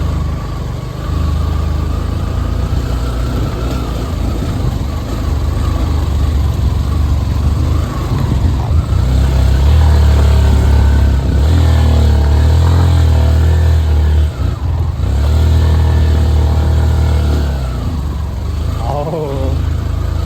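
A motorcycle engine labours continuously on a steep uphill mountain road between Panchthar and Taplejung in eastern Nepal, a loud, close drone that swells and shifts in pitch as it strains, with brief voices underneath.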